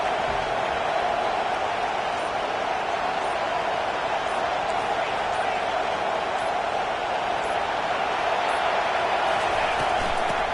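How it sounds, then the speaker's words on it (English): A stadium crowd at an Alabama college football game produces a sustained, even roar of cheering and noise that holds steady throughout, with no clear breaks. "Listen to the crowd energy here in the early going."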